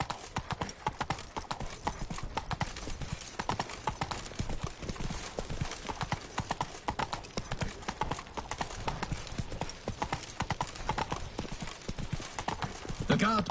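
A horse gallops in The Witcher video game, with rapid, rhythmic hoofbeats pounding nonstop and close over game voices and ambient sound.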